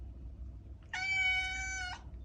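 A single clear cat meow, drawn out for about a second, close and loud over a low steady background hum.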